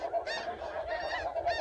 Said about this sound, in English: Look at that goose.